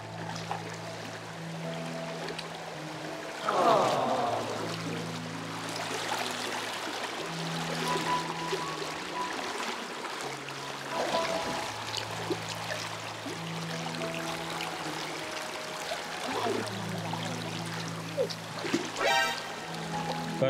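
Water rushes and splashes continuously at close range, a strong steady flow with occasional louder surges, while a low tonal hum repeats underneath.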